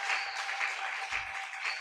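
Church congregation clapping together, a steady, loud wash of many hands applauding throughout with a few voices faintly mixed in.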